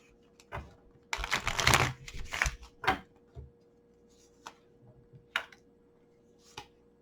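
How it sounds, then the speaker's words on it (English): A deck of tarot cards is shuffled close up in a quiet room: a dense riffling burst lasting a couple of seconds, followed by a few sharp, isolated card taps and flicks. "Last shuffle."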